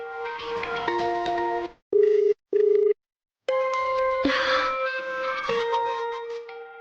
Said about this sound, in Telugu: మాతా, ఫోన్ వస్తుంది.